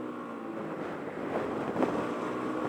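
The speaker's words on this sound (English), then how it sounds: "even though it's like windy out" Wind rumbling and buffeting against a microphone while riding a motorcycle, a steady low roar with slight gusts swelling midway, no voices.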